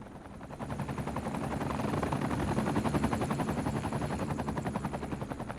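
A helicopter at a helipad in the city-building game Cities Skylines 2, its rotor making a steady, fast chopping throb that swells slightly and holds at moderate loudness with no voices over it.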